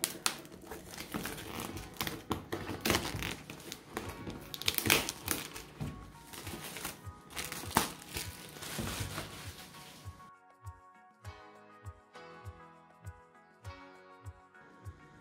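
A retractable utility blade slices the outer packaging seal of a boxed AV600 Powerline Wi-Fi kit, a long stretch of close crinkling, scraping and tearing, followed by a quieter run of evenly spaced soft taps.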